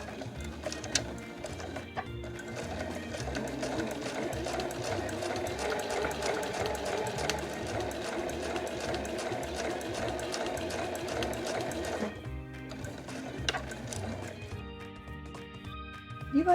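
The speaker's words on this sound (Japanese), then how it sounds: "では返し縫いからスタートします。" Sewing machine backstitching fabric for a small patchwork coaster, a continuous close mechanical whirr running for about ten seconds, stopping briefly, then resuming with a shorter burst.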